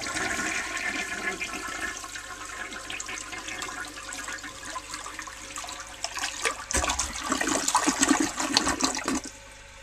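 A 1952 Eljer Sylenta toilet flushes with wads of wet toilet paper in the bowl: a close, gurgling rush of water that surges louder midway, then tapers as the tank refills.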